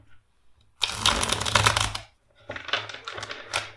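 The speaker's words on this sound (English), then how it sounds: "let's shuffle the deck 5 times" A deck of cards is riffled in two bursts of rapid fluttering clicks, the first longer and louder, separated by a brief pause.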